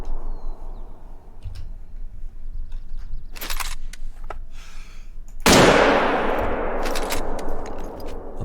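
A rifle gunshot while hunting in The Hunter: Call of the Wild video game, one sharp loud crack followed by a long fading echo rolling across open terrain, with lighter clicks before it.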